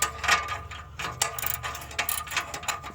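A ratchet snugs up bolts on the CVT transmission of a 2011–2015 Nissan Rogue, a close, quiet, rapid clicking in short irregular bursts with no talking.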